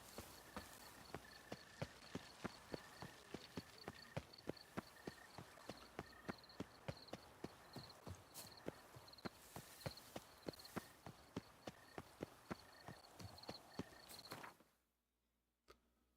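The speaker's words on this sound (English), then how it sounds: "No, don't call your horse." Geralt's horse in The Witcher 3: Wild Hunt on PS5, hooves clip-clopping in a steady galloping rhythm, loud and close for about fourteen seconds before cutting off abruptly into near silence.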